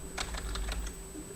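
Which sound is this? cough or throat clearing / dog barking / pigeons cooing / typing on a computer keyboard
typing on a computer keyboard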